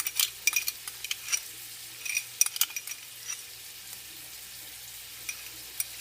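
Pressed garlic sizzles quietly in a pan for a penne, chicken and pesto dish, with a soft, steady crackle broken by light clicks and scrapes of a utensil stirring, all faint and with no talking.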